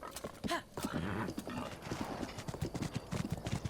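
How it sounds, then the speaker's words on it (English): A horse's hooves clip-clop at a steady trot in Zelda: Breath of the Wild, with a brief whinny and someone talking quietly underneath. "And then call my magical teleportation horse."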